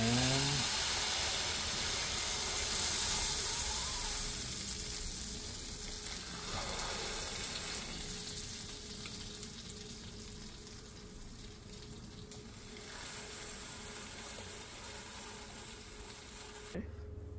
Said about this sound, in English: So you put it in, and then just go ahead and cook it.